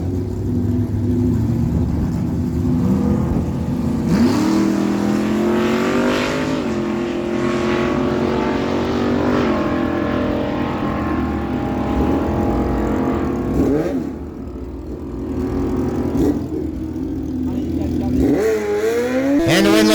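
Drag racing cars, a 1967 Pontiac Firebird and a 1979 Chevy Camaro, rev loudly at a dragway and launch down the strip, engines roaring and climbing through gears while an announcer talks over the noise.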